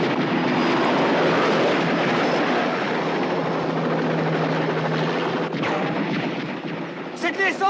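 A helicopter roars loud and close with a dense, continuous rotor and engine drone, a scene from the 1984 series Riptide, with shouting voices breaking through near the end.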